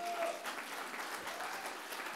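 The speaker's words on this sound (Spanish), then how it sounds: "Démosle un aplauso a Jesús." A church congregation applauds, a dense wash of steady clapping heard at a moderate distance, continuous and without any talk.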